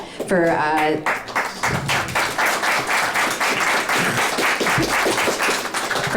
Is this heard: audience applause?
yes